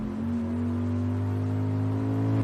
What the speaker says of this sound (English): The engine purred.